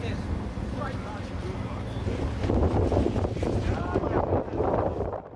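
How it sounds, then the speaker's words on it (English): Wind buffets the microphone at the Bonneville Salt Flats during a land-speed racing event, a rough, gusting rumble that swells in the second half while voices talk faintly underneath. "First challenge, the wind."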